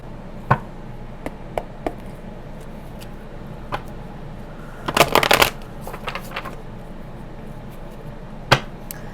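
Oracle cards being shuffled by hand before a tarot reading, a quiet rustle with scattered soft taps and a dense burst of riffling flutter midway, plus a sharp tap near the end.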